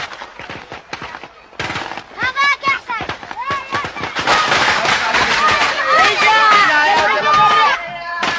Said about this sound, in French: les hommes vont manifester bruyamment leur joie en tirant en l'air et même en lançant des grenades